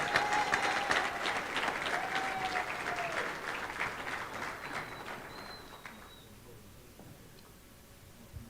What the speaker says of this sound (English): Once again, a round of applause for Coach Mitchell Riggs.